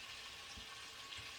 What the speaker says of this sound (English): But you can hear that sizzle.